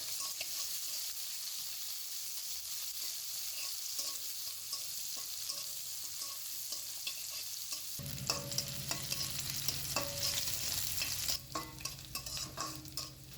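Chopped onions frying in hot oil with cumin, a steady close sizzle that grows fuller partway through, with soft scraping stirs scattered over the hiss.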